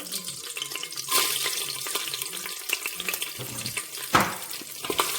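Garlic frying in a pressure cooker for a beef curry, a steady sizzle broken by scraping stirs and occasional clinks of a utensil against the pot, fairly close, with no talking.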